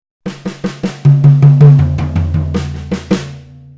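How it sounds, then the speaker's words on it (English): A simple 16th-note drum fill played on an acoustic kit, a quick run of evenly spaced, punchy hits moving across drums and ending with cymbal-like crashes, loud and close with no talking. "So here's that 16th note fill pattern."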